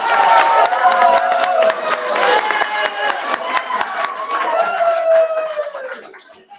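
A panel audience breaks into loud laughter and clapping together, a lively mix of cheering voices and scattered claps that swells, then fades toward the end.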